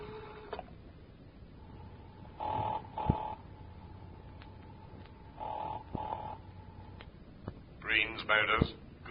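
An old telephone rings in short double bursts, a bright electronic trill repeating at regular intervals, fairly near and moderately loud over a low background hiss, with a voice briefly heard at the end.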